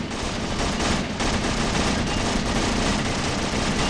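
Soldiers fire continuously in the wargame Graviteam Tactics, rapid overlapping rifle and machine-gun bursts forming a dense, loud fusillade with no pauses and no talking.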